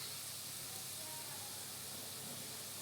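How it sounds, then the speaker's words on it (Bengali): Water added to fried ginger and garlic in a pan gives a steady, soft sizzling hiss that runs unbroken throughout. "এই যে আদা রসুনটা ভাজা হয়ে গেছে, আমি একটু সা পানি দিয়া দিলাম।"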